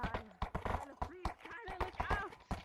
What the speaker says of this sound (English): I have no control over my horse